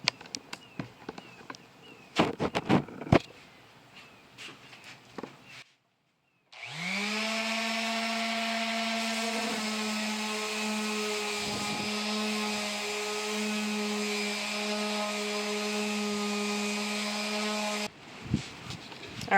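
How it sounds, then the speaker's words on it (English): An electric sander running continuously on a wooden dining table with 120-grit sandpaper, a loud steady whine with a constant hum that starts abruptly and holds for about ten seconds, preceded by scattered handling clatter. "I'm going to sand it with some 120."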